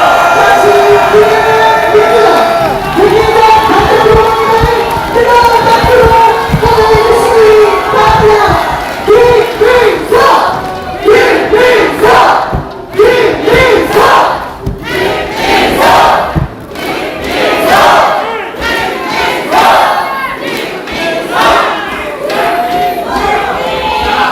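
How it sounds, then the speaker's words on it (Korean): A large crowd at a Democratic Party rally in Gyeonggi Province cheers, shouts and applauds loudly as a candidate takes the stage, a dense roar with rising bursts of clapping and yelling throughout. "큰 박수 부탁드리겠습니다."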